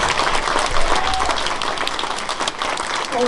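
An audience at a historical society quilt event breaks into a steady round of applause, dense clapping from many hands that holds at an even, fairly loud level throughout.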